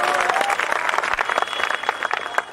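Crowd applause at an outdoor kavi sammelan poetry gathering on a Dussehra ground in Mandalgarh, Bhilwara, with fairly close, uneven claps standing out from the broad wash and a faint steady tone running underneath.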